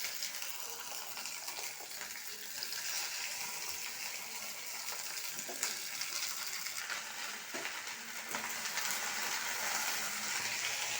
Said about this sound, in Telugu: బెండకాయలు వేసుకుంటున్నా.